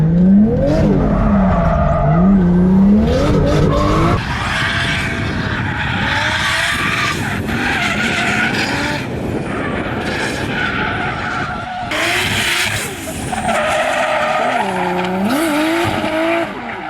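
A car drifts hard with loud, sustained tire squeals and skidding over a roaring engine, the pitch swooping up and down as it slides.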